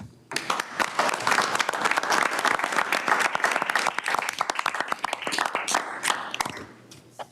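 An audience at a Metropolitan Council meeting applauds after an award acceptance speech, with steady, dense clapping that holds for several seconds before thinning out at the end.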